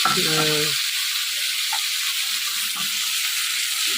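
Cut raw mango pieces frying in hot oil, a steady broad sizzle with sputtering and splattering throughout; a brief voice is heard near the start.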